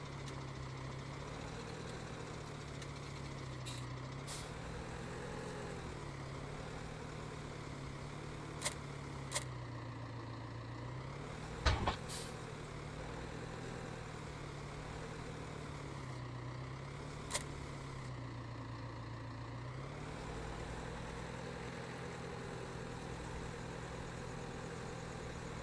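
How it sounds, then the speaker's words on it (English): A tractor idles in Farm Simulator 17, a steady low engine drone running unbroken throughout, with a few faint clicks and ticks over the top. "Is that your tractor following me, Corbin?"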